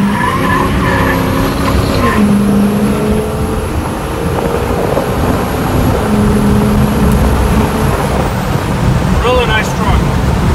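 A 2005 Ford F-250 pickup drives along with steady, loud road and engine rumble throughout, broken by brief tonal tire or drivetrain whines, with a faint voice in the cabin.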